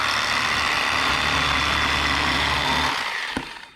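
Electric fillet knife running while filleting crappie: a loud, steady buzzing motor hum close by that cuts off abruptly near the end.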